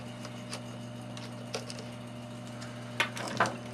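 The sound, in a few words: removing a screw with a T25 Torx wrench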